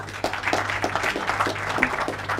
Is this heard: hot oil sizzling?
no